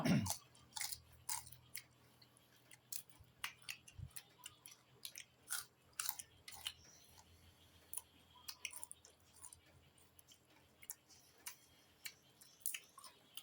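Close, wet chewing of fried dried beef and mackerel salad, with irregular smacks and clicks repeating throughout and no talking.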